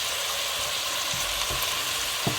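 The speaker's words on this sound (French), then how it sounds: "je fais bien revenir mes légumes" Vegetables sauté in a hot pan for a velouté de céleri, giving a loud, steady sizzle with a few soft stirring knocks and no talk.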